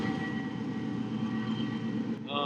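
A train passes by, a continuous rumbling roll of wheels on rails that stays steady throughout and is heard alone, ending with a brief ringing squeal.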